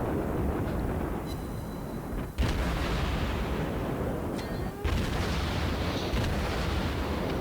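Naval gunfire in a warship video game, a destroyer's guns firing at an enemy destroyer, with two sharp booming shots breaking a steady, loud rumble of engine and sea noise.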